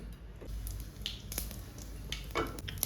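Mustard seeds and cumin crackle and sizzle in hot ghee with a little coconut oil, a steady frying hiss with scattered sharp pops and spits throughout, close and fairly loud.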